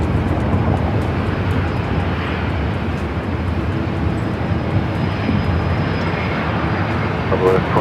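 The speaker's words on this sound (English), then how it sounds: "our next arrival, a JetBlue A321." A JetBlue Airbus A321 airliner arriving at LAX roars steadily and loudly close by, a broad continuous engine rumble lasting throughout.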